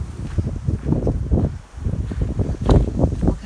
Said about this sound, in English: Oh gosh, and windy. Sorry about the wind.